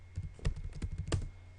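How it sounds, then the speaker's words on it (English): Fingers type on a computer keyboard while entering Ubuntu commands, producing close, irregular clicking keystrokes with a few heavier taps in quick succession. "this keyboard is way different than what I'm used to"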